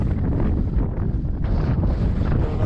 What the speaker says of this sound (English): Still windy but not